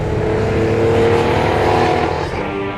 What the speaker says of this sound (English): There were some fast cars out there.